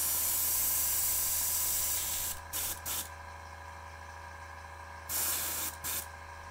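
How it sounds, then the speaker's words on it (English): Paint sprays from a spray gun in two clusters of short, loud hissing bursts, each group of several quick blasts, separated by a quieter stretch with a low steady hum underneath. "That was a lot of spray"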